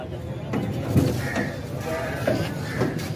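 A male goat bleats a few times, short and moderately near, amid background noise and some clanking, as goats are loaded for cargo transport in Pakistan.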